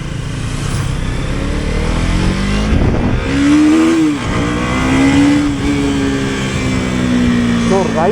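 A KTM Duke 250 third-generation motorcycle engine runs loudly and steadily during a ride, its pitch rising through revs with a couple of shifts, heard close with wind and a voice talking over it.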